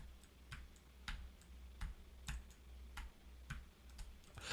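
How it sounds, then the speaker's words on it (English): Typing on a computer keyboard, a quiet close-up string of separate key clicks in an uneven rhythm of roughly two per second, with nothing else in the background. "Like this is me typing."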